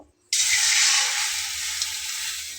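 Water poured into a hot kadai on the stove sets off a sudden loud hiss that settles into a steady sizzle, slowly fading over a couple of seconds.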